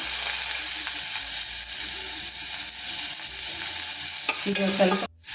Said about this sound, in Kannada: ಒಂದು ಸ್ವಲ್ಪ ಸಾಸಿವೆ ಹಾಕ್ಕೊಳ್ಳೋಣ. ಈರುಳ್ಳಿ, ಕರಿಬೇವು ಹಾಕ್ತಾಯಿದ್ದೀನಿ.